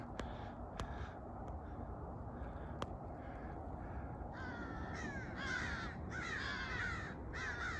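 A few crows caw repeatedly in the distance over a steady outdoor background, their harsh calls coming in short groups toward the end.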